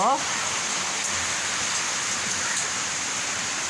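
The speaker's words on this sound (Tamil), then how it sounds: "ஊரில் மழை, இந்த மழையில்" Rain falling in a village, a steady, dense hiss that stays even throughout, close and fairly loud with no other clear sounds.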